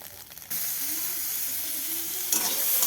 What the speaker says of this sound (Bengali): এই যে এবার এইটা ভেজে নিচ্ছি।